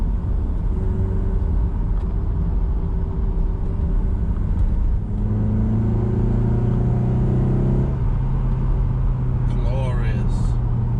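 Toyota MR2 engine with a home-made induction kit built from scrap parts, rumbling loudly and close with rising drone tones as it pulls through gears, wind noise mixed in.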